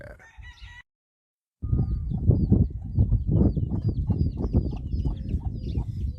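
Chickens cluck and squawk in a dense, continuous chorus nearby, with a few higher calls mixed in after a brief pause at the start.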